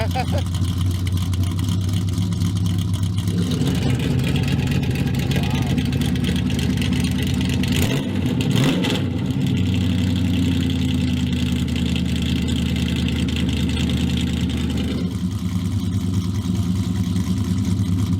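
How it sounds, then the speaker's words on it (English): A Dodge Demon's engine cold-starts and idles with a deep, steady rumble, briefly rising in pitch with revving in the middle before settling back to a loud, rough idle, with people talking nearby. "That's a real cold start."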